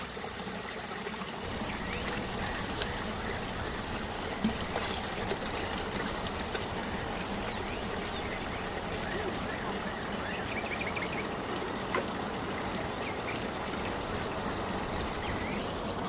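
Water flows and trickles steadily at an outdoor spot, a constant close wash of sound through the whole stretch, with faint high chirping in the background and occasional small clicks.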